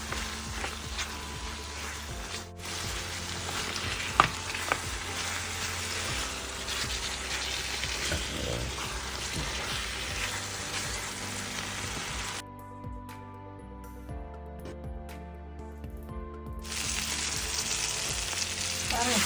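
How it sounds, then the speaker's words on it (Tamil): Mutton sukka pieces fry in a pan with roasted masala powder, making a continuous close sizzle and crackle broken by stirring scrapes. The frying hiss drops away briefly for a few seconds before returning. "ஆட் பண்ணிவிட்டு அப்படியே நம்ம கிண்டிடுவோம்"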